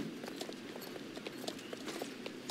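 Horse hooves clop in Star Stable as a rider canters carelessly, a soft repeated rhythm of hoofbeats over a hissy, even background.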